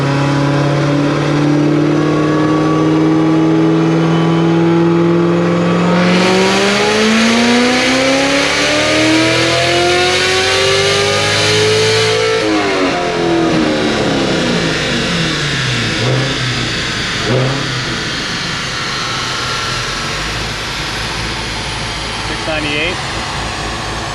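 A cammed Corvette Z06 on a dyno screams at full throttle, rising steadily in pitch for about twelve seconds before cutting off, then falling away through a burbling, popping coast-down; loud and close.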